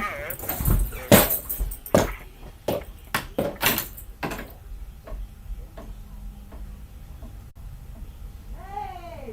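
A front door opens for visitors with a burst of knocks, clicks and rattling handle sounds, followed by quieter ticking, people talking and a dog whining near the end.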